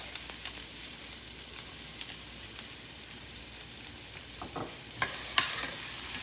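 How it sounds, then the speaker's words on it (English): Chopped onion and big cloves of garlic hissing and sizzling steadily in a hot pan, with occasional scrapes and clicks of stirring over the constant crackle. "Now I'm going to throw in the onions and the garlic."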